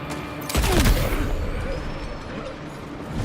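A burst of gunfire rings out in the video game Death Stranding 2 during a firefight around a vehicle, loud and close at first, then trailing into a rumbling decay.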